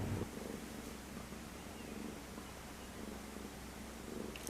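A pet cat purrs steadily close up, a soft continuous low rumble lasting throughout with no talking over it.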